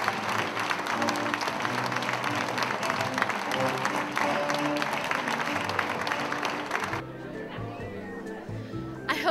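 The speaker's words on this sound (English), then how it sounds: "one big round of applause for the ladies that have shown you this swimwear throughout" An audience at a swimwear fashion show at the International Swimming Hall of Fame breaks into sustained applause, filling most of the clip before dropping away abruptly near the end.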